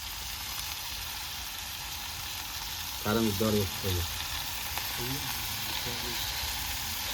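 Chicken curry frying in a pan at an outdoor event setup, a steady soft sizzle running throughout at moderate distance, with a few short bursts of talk over it.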